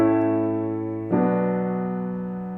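A deceptive cadence ending on the submediant chord 6 plays as sustained harmonic chords, one long held chord shifting to a new final chord about a third of the way through, then ringing out and slowly fading.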